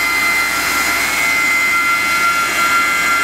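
Wasino WMC3 vertical machining center spindle spinning at 3,500 RPM, heard from about two feet away: a steady, loud high-pitched whine with a constant tonal hum and airy rush, unbroken and without voices.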